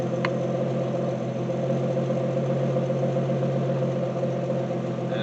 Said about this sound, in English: And it idles.